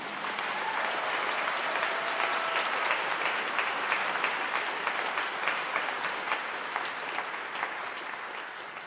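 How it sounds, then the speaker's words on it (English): An audience at a university graduation ceremony applauds steadily, a dense, even wash of clapping that sustains throughout at moderate distance with no talk over it. "I think that deserves a little round of applause."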